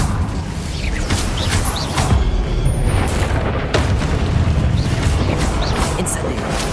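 Fire spell effects cast in Hogwarts Legacy, a dense roaring, booming blast wash with bursts and crackling whooshes throughout, loud and continuous.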